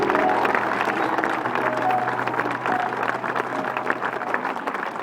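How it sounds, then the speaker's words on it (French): At a concert the audience applauds the technical team: a full, sustained wave of clapping from a large crowd with some cheering mixed in, loud and continuous throughout. "Est-ce que vous pouvez applaudir l'équipe technique, la merveilleuse équipe technique qui nous accompagne chaque fois?"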